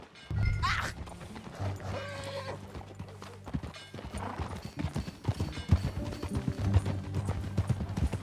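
In the Red Dead Redemption 2 video game, horse hooves clip-clop in a steady rhythm beneath a low musical drone, with a horse whinnying briefly early on.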